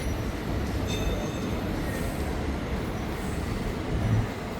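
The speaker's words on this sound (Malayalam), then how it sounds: "അപ്പുറത്തെ ട്രാക്കിൽ കൂടെ വണ്ടി പോകുന്നതാണ് നമ്മളിപ്പം കാണുന്നത്." A train rolls along a nearby track at night, a continuous rumble of wheels with faint metallic squeals, steady and moderately close throughout with no voices.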